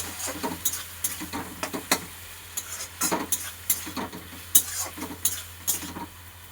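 A spatula stirs a tomato curry of small mourala fish with whisked yogurt in a pan, giving repeated scraping and clinking strokes over a soft, steady sizzle, close and fairly quiet, with no talking.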